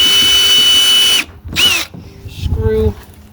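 A power drill drives a screw into scrap wood while building a folding target stand: a loud, close, high whine runs for about a second, followed by a brief second burst and a short lower grinding pass.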